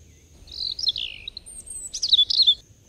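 A small bird chirps and tweets in two close, clear bursts of high, thin calls against a quiet background, with no voices.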